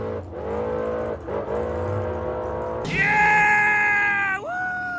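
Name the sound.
race car engine revving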